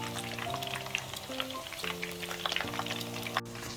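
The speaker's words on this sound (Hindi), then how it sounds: "तो अब इसको घुमा घुमा के आप फ्राई कर सकते हैं।" Chicken kulfi kebab fries in hot oil, giving a constant crackling sizzle with scattered pops over a low background hum, close and unbroken with no voices.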